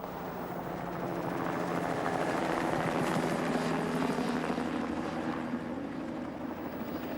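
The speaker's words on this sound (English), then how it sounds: "it was lost in the noise of the helicopter" A helicopter drones steadily throughout, its dense rotor chop and engine roar holding fairly even in loudness as it flies down a valley, with no talk over it.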